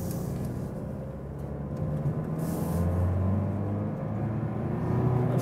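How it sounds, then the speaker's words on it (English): Mercedes-Benz V-Class diesel engine while driving, a low, steady cabin drone with a mild rumble that rises slightly as it pulls along, fairly quiet and smooth. "you hear it's a diesel, but I think it's not too annoying at all"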